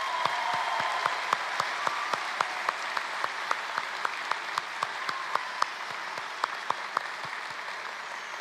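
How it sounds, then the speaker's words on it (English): An audience applauds at a high school graduation ceremony, steady, even clapping from a large crowd, distant and diffuse, with occasional sharper nearby claps standing out. "Please give them a round of applause."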